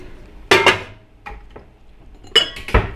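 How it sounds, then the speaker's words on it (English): A frying pan being handled in a home kitchen: a few sharp metallic clanks and clatters ring out up close, spaced irregularly, with quieter knocks and handling noises in between. "My favorite frying pan."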